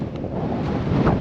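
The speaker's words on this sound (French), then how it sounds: "Bon, il y a du vent, hein." Wind buffets the microphone at a beach campsite by the sea in the Aude, a brief rough gusting roar with no one speaking.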